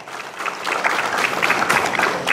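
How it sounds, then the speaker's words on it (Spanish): An audience at a formal ceremony with a head table breaks into steady, sustained clapping, many hands close together and building slightly in strength. "Fuerte las palmas, por favor, señores."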